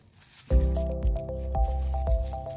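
A syringe is filled with 9% hydrogen peroxide from a jug, producing a close, squeaky, squelching draw with a faint hum and small clicks as the plunger is pulled.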